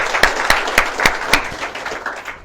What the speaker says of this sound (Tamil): ஒரு பலத்த கைத்தட்டல் கொடுக்கலாம்